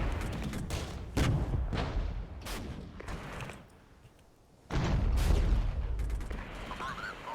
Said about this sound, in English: I think we will open fire up here as well.